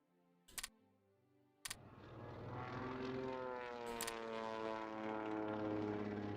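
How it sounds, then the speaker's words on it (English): A propeller-driven naval bomber drones in the strategy game Hearts of Iron 3, its engine hum swelling in after a few clicks and holding as a steady, moderately loud wavering roar. "Naval bombers are bombarding Novorossiysk."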